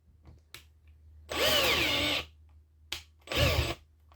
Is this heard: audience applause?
no